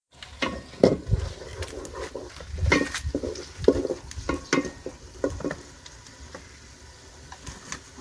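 Food frying with garlic paste on a clay stove outdoors, with irregular stirring scrapes and thumps over a steady sizzle.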